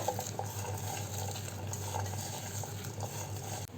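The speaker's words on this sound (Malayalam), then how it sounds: "ഇതിലേക്ക് ആവശ്യമായ ഉപ്പ് ചേർത്ത് ഞാനൊന്ന് തിരുമ്മി വെക്കുന്നുണ്ട്." Soft, quiet rubbing and squishing as a hand kneads ground lentils with salt for parippu vada, faint irregular crackles and rustles in a calm kitchen with no speech.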